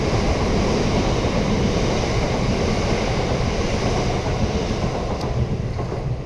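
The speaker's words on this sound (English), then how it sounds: "let the train go by." A train rolls past as a steady, loud broadband rumble with heavy low roar and wind-buffeted noise that barely changes across the stretch, and no voices are heard.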